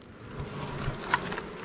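Honeybees around a swarm trap during a move into a 10-frame hive, a soft steady outdoor buzz with a few louder passes near the microphone and no talk.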